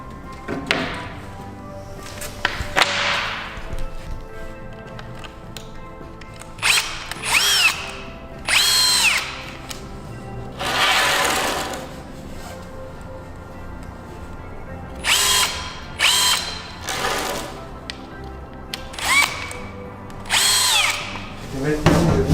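Power drill driving screws into the wooden panels of a flat-roof garden shed, several loud whirring bursts of one to two seconds with pauses and light knocks between, up close with a voice speaking briefly.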